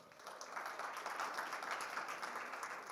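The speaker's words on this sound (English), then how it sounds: "give yourself a round of applause for that." An audience at the GTAC PEC 2026 conference applauds, giving three seconds of steady, moderately faint clapping from a crowd with no talking over it.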